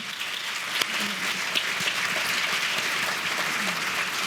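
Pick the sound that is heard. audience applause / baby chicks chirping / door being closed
audience applause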